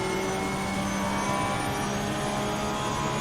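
Aston Martin V12 race car engine in an endurance racing video game at Monza, a loud sustained droning roar held steadily throughout without any talk.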